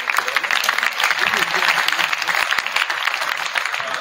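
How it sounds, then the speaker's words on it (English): A crowd applauds steadily, dense clapping throughout at a consistent loud level with no break. "Can we give Coach Cruise a round of applause?"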